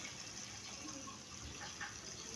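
Water pours into a pan of adobong sitaw (string beans cooking), a soft, continuous gushing splash heard close up, fairly quiet and without a break.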